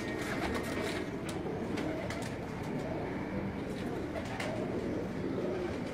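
A Kabuli high flying pigeon coos softly amid a constant hiss of outdoor background noise, with faint voices present.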